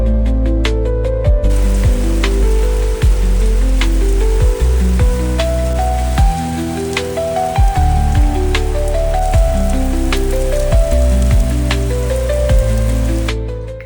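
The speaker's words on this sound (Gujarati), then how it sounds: "જો જોરદાર વરસાદ પડે છે" Steady, dense heavy rain pours down in the UK for the whole stretch, a loud constant hiss with scattered sharper drops and no voices.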